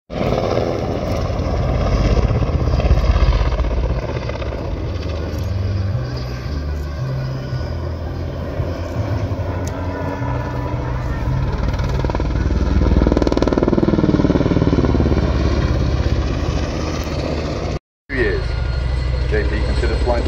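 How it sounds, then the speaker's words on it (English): Loud, continuous helicopter rotor and engine drone close by at an airshow, with a labored mechanical whine from gearboxes straining under a slung load, broken once by a brief cut near the end. "you can hear the gearboxes working just that little bit harder"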